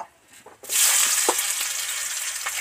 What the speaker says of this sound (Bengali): এবার এর মধ্যে পেঁয়াজ কুচিটা দিয়ে দেব